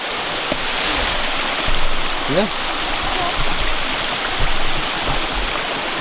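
Waterfall pouring over rocks, a steady broadband roar of rushing water filling the whole scene at close range, with a person briefly speaking over it.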